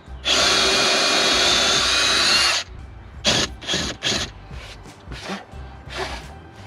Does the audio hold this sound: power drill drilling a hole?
yes